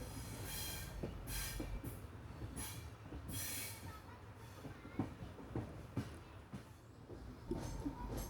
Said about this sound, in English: we are pulling into Surathkal station for a scheduled halt